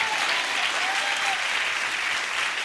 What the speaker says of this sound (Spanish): Dale un aplauso al Señor por eso.